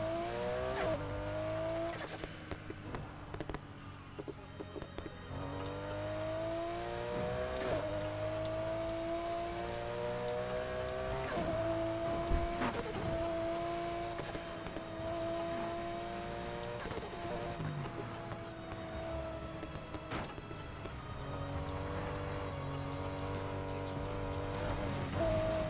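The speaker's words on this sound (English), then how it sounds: "I want you guys to hear the roar of the engines." Car engines roar and rev throughout a race in the Need for Speed Heat video game, shifting pitch steadily with sharp bursts, loud and continuous with occasional faint talk underneath.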